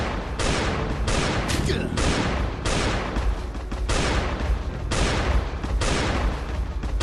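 Automatic gunfire rattles in Last Day on Earth: Survival during a Christmas event, loud close bursts of rapid shots lasting about a second each, separated by brief pauses, with some speech underneath.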